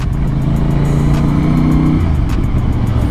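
Exhaust of a CF Moto 450CL-C motorcycle with an aftermarket muffler setup, a loud, close, throaty engine note that holds a steady pitch before dropping, no talking.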